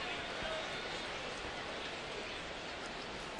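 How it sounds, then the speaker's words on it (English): Rain showers down steadily at a baseball stadium with a retractable roof, giving a dense, even hiss that holds constant throughout without breaks. "A refreshing little shower here tonight."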